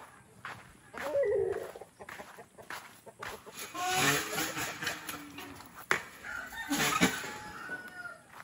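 Chickens on a small farm with goat pens cluck intermittently, fairly close, among scattered rustling and handling noises, with faint voices at times.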